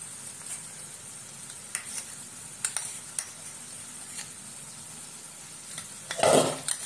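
Regular butter and garlic butter for onion prawns go into a pan and are stirred, giving a low, steady sizzle with scattered utensil taps and a brief louder clatter near the end.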